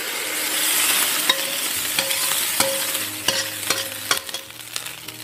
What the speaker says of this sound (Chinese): 把银芽放入， 滑一下油， 迅速关火